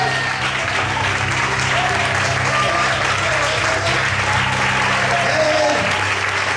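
A church congregation applauds during an evening service, a loud, sustained wash of many hands clapping, with a low hum and faint voices running underneath.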